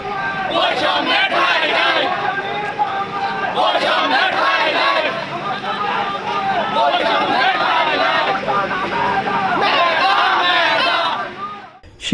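Students protesting in Lakshmipur for quota reform chant slogans together, a loud, continuous crowd roar of rhythmic shouting with surges and overlapping voices, close and filling the whole stretch before trailing off at the end.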